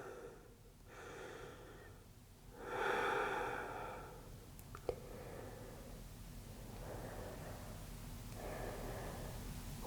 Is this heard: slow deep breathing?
yes